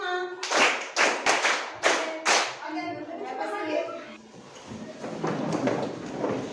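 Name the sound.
hand clapping counted in a lesson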